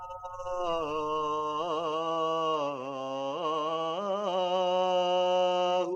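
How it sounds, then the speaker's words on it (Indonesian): A single voice sings the midday (zuhur) Islamic call to prayer, long and melodic, sustained and ornamented with wavering pitch, clear and resonant with no other sounds. "Itu suara azan zuhur."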